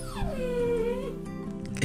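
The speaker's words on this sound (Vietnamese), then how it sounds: "Nè, tránh ra, sao lại đánh con chó tội nghiệp thế này chứ?" A stray dog in an animated folk-tale cartoon whimpers and howls after being beaten, one long drawn-out wailing cry falling then holding in pitch, close and alone, with a brief yip at the end.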